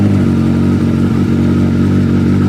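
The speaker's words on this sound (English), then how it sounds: "Cold start of the ZX-14R." A Kawasaki ZX-14R sport motorcycle, recovered from a tow yard with a suspected transmission fault, idles loudly and steadily after a cold start, its engine drone close and continuous with no talking.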